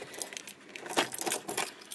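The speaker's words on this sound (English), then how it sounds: "Oh, I need my keys." Truck keys jangle in quick, bright bursts for about two seconds, close and fairly loud, with no voices.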